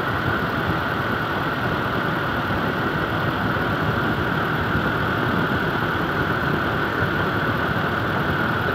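A Toyota Innova engine idles with a faulty ignition coil, a loud, close, steady low rumble and hum that drones on without a break and with no voices.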